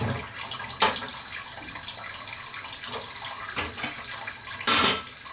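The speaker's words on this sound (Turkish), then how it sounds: "Bak hala akıyor, çekimin içine sıçıyor." Tap water keeps running steadily in the background, a constant hiss with a few louder splashing surges, and nobody speaks.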